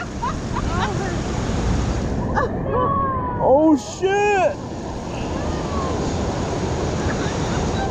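Ocean waves washing up on a beach during a family beach day, a steady broad roar of surf and wind close to the microphone, with excited voices and a brief shout partway through.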